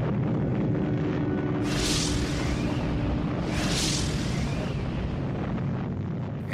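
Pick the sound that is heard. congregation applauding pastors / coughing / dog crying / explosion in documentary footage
explosion in documentary footage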